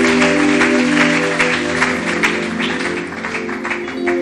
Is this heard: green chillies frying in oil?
no